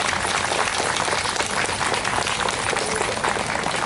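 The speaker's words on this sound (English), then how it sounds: "I want a round of applause for these young people" A crowd at a Canada Day celebration in Newcastle claps continuously for young performers, a dense, even roar of applause filling the room without pause.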